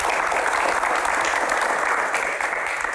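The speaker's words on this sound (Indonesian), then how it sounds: "Raja konser, tepuk tangan." A hall full of people claps steadily and loudly for a concert promoter, a thick, even wash of applause that holds for the whole stretch without a break.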